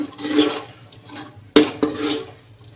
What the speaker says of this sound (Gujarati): તો તુવેરના દાણા સરખી રીતે મિક્સ કરી દઈશું.